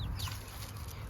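A rooster and hens in a farm flock squabbling, with a couple of quick clucks and squawks over a low background rumble, close and moderately loud.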